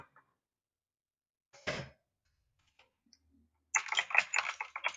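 Fingers type on a computer keyboard in a quiet room: a short isolated press, then a quick burst of rapid key clicks near the close, with a faint throat sound in between.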